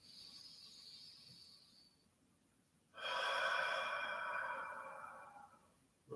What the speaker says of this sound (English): take a deep inhale through the nose and follow with a deep exhale through the mouth